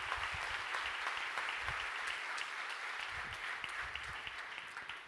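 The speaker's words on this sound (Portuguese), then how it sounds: "Você pode dar um aplauso?" A church congregation applauds its volunteers with a fairly soft, continuous wash of clapping, even and unbroken throughout.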